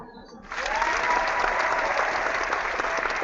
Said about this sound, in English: Hit the applause button, Joe.